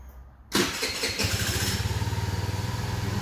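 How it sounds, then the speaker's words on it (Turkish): A 50cc scooter engine, just given its first oil change, starts abruptly after a moment of quiet and settles into a steady, close, rhythmic idle putter that runs on alone. "Şimdi yağın devir daim yapması ve tekrar kartele süzülüp normal seviyesine geldiğini anlayabilmemiz için şu anda motoru rölantide biraz çalıştıracağız"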